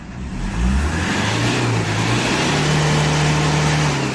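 A Toyota HiAce Commuter van's engine, sitting unused in a garage for a year, revs up loudly and close by, climbing quickly and then holding a sustained high drone for several seconds, with no speech.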